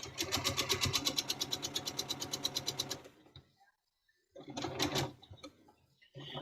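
A sewing machine stitches a quilt block in a fast, even run of close mechanical rattles, stops for a silent moment, then starts again in short bursts.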